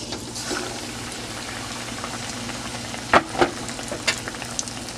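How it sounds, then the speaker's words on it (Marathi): Bread pakora dipped in gram flour batter is lowered into hot oil, producing a steady soft sizzle with a few sharp crackling spikes partway through, close up and with no talk. "आता इथे मी हे बघा असं त्या बेसनच्या मिश्रणामध्ये असं बुडवून आपल्याला हे तेलात सोडायचं आहे"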